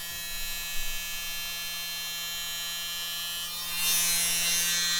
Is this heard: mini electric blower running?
yes